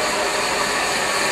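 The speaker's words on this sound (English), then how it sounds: "you get the hairdryer" A hair dryer blows steadily at close range, a continuous loud whooshing roar with a motor whine and no pauses or talking.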